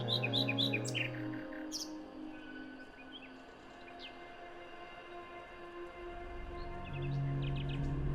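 A nightingale sings a varied run of sharp chirps and trills, loudest at the start and then thinning into scattered phrases. A steady low rumble like a passing train stays underneath, and no one speaks.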